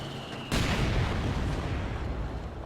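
Mortar pit firing in the World War II strategy game Company of Heroes 2: a single sharp loud boom at the start, then a long rumbling decay with continuous battlefield noise, no talk.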